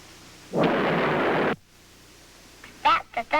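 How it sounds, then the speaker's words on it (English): A thunder sound effect from a Disney sound effects room rumbles as one loud burst of roughly a second that stops abruptly, followed by a short stretch of quiet and then a voice speaking. "That's the thunder."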